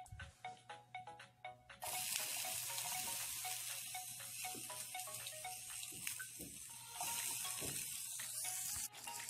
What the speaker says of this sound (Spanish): No saben qué aroma sale cuando se está friendo lo que es el ajo y la cebolla.